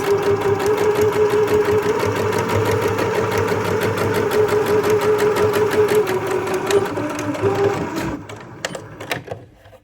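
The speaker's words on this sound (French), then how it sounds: "On pique la dernière ligne droite." A sewing machine stitches the last straight seam of a wrap dress, a fast, rapid regular whirring rattle that runs steadily, then slows and stops in a few final short bursts.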